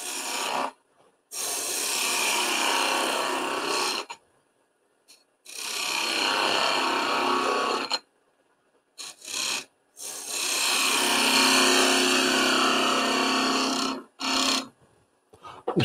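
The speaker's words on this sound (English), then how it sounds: "Same skew chisel." Skew chisel cutting a spinning wooden candlestick on a woodturning lathe, three long rasping passes of several seconds each separated by short silences, with a few brief touches of the tool near the end.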